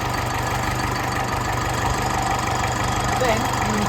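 A 1956 Ferguson TEF20 tractor engine idles steadily and close, a constant low, even chug with a rough mechanical clatter throughout.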